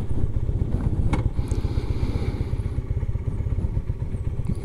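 A Honda CB450 Custom motorcycle engine idles nearby with a steady, rapid low-pitched thumping and mechanical clatter, running continuously without pauses.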